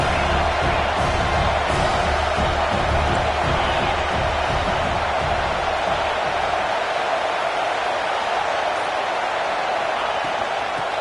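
Steady roar of a large stadium crowd at a Fresno State college football game, a dense continuous wash of voices and noise that thins slightly toward the end.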